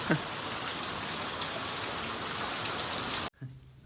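Steady rain pours down in a constant hiss, fairly loud and even, then cuts off abruptly near the end.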